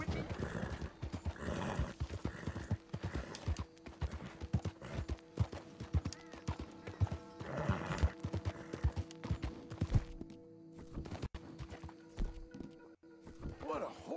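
Rhythmic clip-clop of horse hooves with occasional neighing in Red Dead Redemption 2, steady and close, under a continuous bed of music-like tones and background noise.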